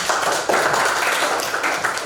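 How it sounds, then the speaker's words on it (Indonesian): A classroom of pupils clapping their hands together, a steady dense patter of many small claps lasting about two seconds, close and fairly loud with no voices over it. "Tepuk tangan."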